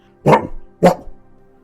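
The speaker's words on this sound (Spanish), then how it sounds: "¿Podría usted ladrarme, por favor? Le ladré." A dog gives two sharp, close barks about half a second apart, loud and clear against a quiet background.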